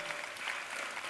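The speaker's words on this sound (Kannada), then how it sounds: "ಜೋರಾದ ಚಪ್ಪಾಳೆ ಬರಬೇಕು" An audience applauds at a public yoga demonstration, a brief burst of steady, moderately distant clapping.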